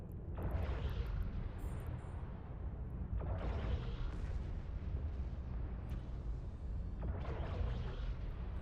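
Spaceship weapons in EVE Online fire in heavy, booming volleys about every three to four seconds, each a deep rumbling blast that decays slowly over a low continuous engine-like drone.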